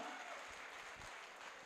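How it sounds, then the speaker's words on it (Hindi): Steady, dense clapping from a crowd at a celebration fills the whole moment, a continuous wash of hands with no pauses. "जोरदार तालियां"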